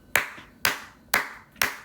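Four sharp, evenly spaced hand claps ring out close and clear in a quiet room, each a crisp single slap about half a second apart.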